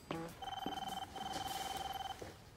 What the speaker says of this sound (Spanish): disculpe, es mi teléfono